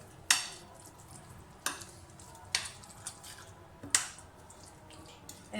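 A spoon stirs and mixes mutton boti masala gravy in a pan, giving a few sharp scraping clacks spaced about a second apart over a soft, low background of gentle bubbling, with no talking.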